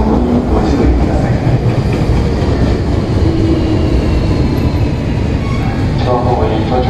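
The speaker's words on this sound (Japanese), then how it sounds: "ただいま、1番ホームに到着の電車は、特急新開地行きです。" A Hankyu 8000 series train, set 8002F, running as a limited express to Shinkaichi, rolls loudly into platform 1 at Kobe-Sannomiya with steady rumbling and wheel clatter. A station announcement plays faintly beneath the noise.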